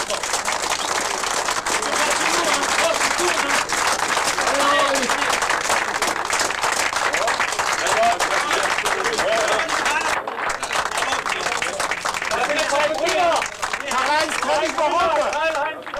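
A crowd applauds two brothers, one German and one French, at the Warndt tunnel in 1997, with dense, steady clapping that carries on without a break and is mixed with crowd voices and babble.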